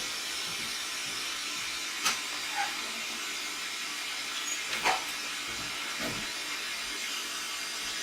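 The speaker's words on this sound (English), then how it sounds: "show you a little demonstration of what my torch can do" A glassworking torch flame burns as a steady, broad hissing roar throughout, with a few faint clicks and small knocks over the top and no talking.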